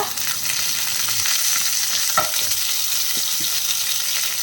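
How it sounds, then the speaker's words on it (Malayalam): Mustard seeds and curry leaves in hot oil give a steady, moderate frying hiss, broken by a few sharp, scattered pops and crackles. "നമ്മുടെ എണ്ണ ചൂടായിട്ടുണ്ട് ഒരു അര ടീസ്പൂൺ കടുക് ഇട്ട് കൊടുക്കാം കടുക് ഒന്ന് പൊട്ടട്ടെ"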